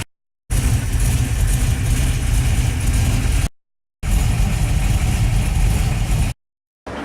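A Buick Regal engine idles steadily while warming up on a cold start, a loud, even low rumble broken by two short gaps of silence.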